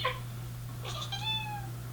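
A cat gives a short meow followed by a longer, rising then falling meow, close and clear over a low steady hum.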